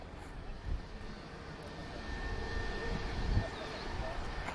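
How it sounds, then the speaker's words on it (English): EasyJet Airbus A320neo jet airliner at Lisbon Airport bound for Luton, a steady moderate engine roar that swells slightly toward the end, heard at a distance. "a gorgeous looking A320 from EasyJet. He's off to Luton, A320 Neo"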